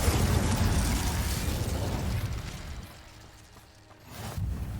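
A fire spell cast in Hogwarts Legacy, a loud roaring blast and whoosh of flame that slowly fades, followed by a quieter dip and a second rushing burst at the end.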